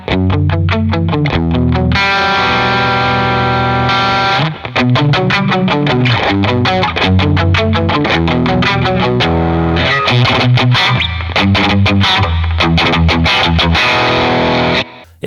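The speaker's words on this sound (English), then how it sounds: "Yeah, it just has that really kind of like squishy, trebly kind of sound." Electric guitar played through a praise-and-worship pedalboard with a trebly, squishy attack effect pedal engaged, heard as distorted strummed chords and rhythmic choppy riffs, loud and close, with brief breaks between phrases.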